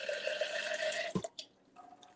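Water poured from a kettle for pour-over coffee gives a steady, close trickle for about a second, then stops with a few small drips and clinks.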